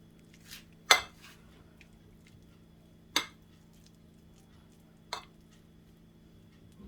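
A spoon stirring pasta in a pot for Egyptian koshari gives a few sharp metallic clinks against the pot, spread unevenly over a quiet, steady background hum, with no talking.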